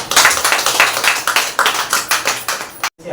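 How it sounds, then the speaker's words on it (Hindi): A church congregation at a Wednesday service clapping in a quick, rhythmic pattern, sharp claps repeating at a steady beat, close and loud, ending with a brief gap. "स्वागत है आपका जोरदार तालियों के साथ"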